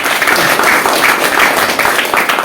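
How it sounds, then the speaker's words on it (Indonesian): A church congregation clapping loudly and continuously, a thick wash of hands with slight rhythmic swells, filling the short span with no voices standing out. "Berikan tepuk tangan bagi Tuhan kita"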